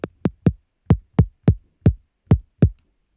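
Punchy synthesized kick drum built with Ableton's Operator FM synth and high-pass filtered, nine short tight thumps in an uneven pattern, each with a sharp click and quick decay, played dry with no voices.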